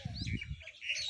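Small birds chirp in a tree by Joda Talab pond in Chakradharpur, quick high tweets scattered over a low rumble of outdoor background noise, fairly close and continuous.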